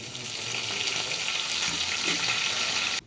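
Dried chillies, tempering seeds and curry leaves crackle and hiss in hot oil as a close, steady sizzle with faint bubbling, cut off abruptly at the end, while cooking a gongura dish.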